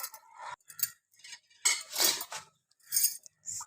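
Metal utensils clink and scrape against a pot of mutton curry as ground masala paste is stirred in, in short irregular bursts with quiet gaps between, close by and fairly loud.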